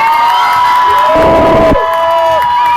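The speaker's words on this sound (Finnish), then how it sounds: "Okei, aplodit Jukalle, kyllä se on se." Loud audience cheering and whooping erupts at a live stunt comedy show, a burst of shouts and applause that swells and then fades under sustained tonal music or ringing.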